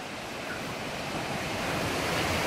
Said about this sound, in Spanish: Ahí está la cascada.